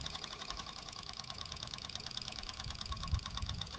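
A 1970s Mamod SW1 live steam wagon's small engine runs steadily, a close, continuous rapid chuffing and mechanical clatter with a faint dip near the end, no voices over it.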